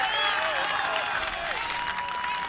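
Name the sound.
baseball crowd applauding a triple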